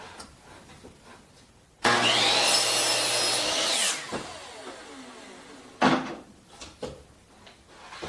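A power saw cuts through a 2x4 board for a beginner's Christmas tree project, a loud steady whine of about two seconds, followed by brief wood clatter and handling knocks.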